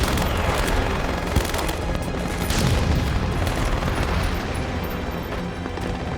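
Battle gunfire on beaches as soldiers land: dense, continuous rattling fusillade of rifle and machine-gun shots with scattered booms, loud and sustained throughout.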